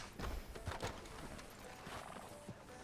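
Horse hooves in the video game Red Dead Redemption 2 clop rhythmically on hard ground at a steady walking pace, moderately close, over a soft background bed.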